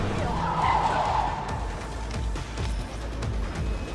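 Porsche in Cyberpunk 2077 skidding with a loud tire squeal that peaks early, under a steady engine roar and constant game noise throughout.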